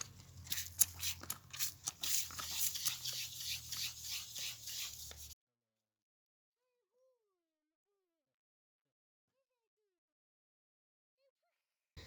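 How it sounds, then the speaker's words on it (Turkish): Steady scratchy rasping of sandpaper rubbed over a metal storage hatch door in quick repeated strokes, lasting about five seconds before falling silent. "Zımpara işlemi tamamlandı"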